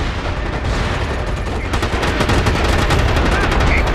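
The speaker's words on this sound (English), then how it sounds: "We've got incoming artillery fire." Incoming artillery fire in a military video game rumbles as a constant loud barrage of booms and overlapping gunfire throughout.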